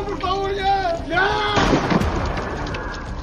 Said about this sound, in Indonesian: Satu persatu penumpang ditembak karena tidak sanggup membunuh Pedro